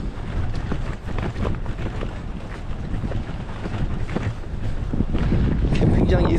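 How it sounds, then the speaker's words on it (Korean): Strong, gusty Patagonian wind batters the microphone during a cycling trip, a buffeting roar that surges in uneven blasts and grows louder toward the end, with a voice heard briefly. "진짜 강풍 돌풍 장난 아닙니다."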